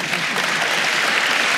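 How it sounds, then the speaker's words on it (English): Loud, continuous applause from a festival audience thanking panellists, a dense even roar of clapping close up with no pauses. "I'd like you to continue to clap and thank our panellists for this afternoon."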